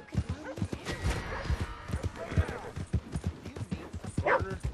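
Horse hooves clip-clop in a steady trotting rhythm in the Red Dead Redemption 2 video game, fairly close and loud, with someone talking over them throughout.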